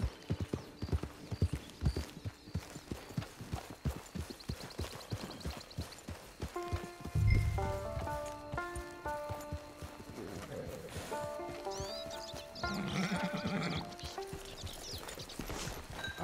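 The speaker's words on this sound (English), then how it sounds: "Get your horse." A horse walks at a camp, hooves clip-clopping in a steady repeated rhythm close by, with a short musical passage rising midway and faint background sounds.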